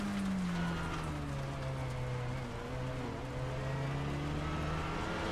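Steady rain hiss over the track in a wet touring-car race at Snetterton in a racing video game, with a car engine droning underneath throughout, loud and continuous with no talk.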